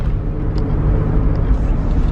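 A car drives along smoothly, a steady low engine and road rumble heard from inside the cabin, loud and constant without talk.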